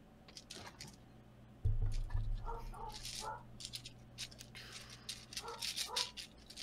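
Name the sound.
dogs barking in the street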